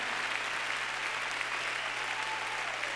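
A church congregation at a camp meeting claps its hands in sustained applause, a dense steady wash of claps filling the room for the full stretch with no talk over it.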